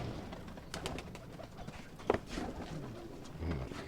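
Pigeons coo softly in low, murmuring calls at a Punjabi pigeon keeper's loft, faint and close-to-mid distance, with a brief louder flutter partway through.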